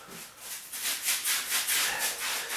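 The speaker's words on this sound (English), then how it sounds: "Just going to do it with this little paintbrush instead." Small paintbrush spreading sealer over Mexican clay pavers, soft rhythmic scratchy strokes repeating about twice a second, close and fairly quiet with no talking.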